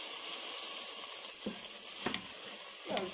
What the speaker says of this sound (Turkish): Nanemizi atıyorum. Birlikte kavuruyoruz.